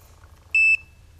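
Two short electronic bite-alarm beeps from a carp fishing rod setup at a lake, sounding close, clear and high-pitched against a quiet background hum.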